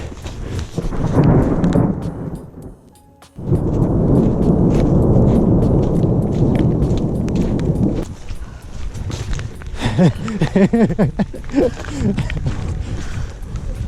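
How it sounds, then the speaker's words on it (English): A deep thunder rumble at Bear Lake in Rocky Mountain National Park rolls low and heavy, then a long continuous roar of rain or storm noise, followed by muffled rustling and a voice. "There's lightning falling, thunderstorms."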